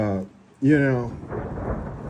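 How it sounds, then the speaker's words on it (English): Rain falls outdoors during an Arizona thunderstorm, a steady hiss of the downpour filling the background while someone speaks briefly over it. "it's a rainstorm."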